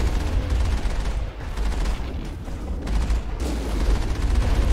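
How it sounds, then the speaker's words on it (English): Rapid bursts of gunfire from a Mass Effect battle, with dense overlapping shots and booms running without a break at close range and high volume. "Okay, they're already shooting at me."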